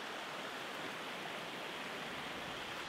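A river flows past the corner of a homestead property, producing a steady, even rushing wash with no breaks and no voices.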